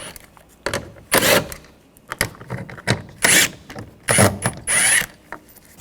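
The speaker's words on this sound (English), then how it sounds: "Using a 10mm socket, we're going to take these bolts out." Ratchet wrench with a 10mm socket backing bolts out during a door handle replacement on a 2014-2020 Nissan Rogue: several short bursts of clicking, close and fairly loud, separated by brief pauses.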